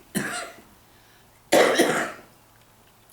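Two hoarse coughs from a person fighting off a lingering cold, the first short and the second heavier and longer, close up in a quiet room.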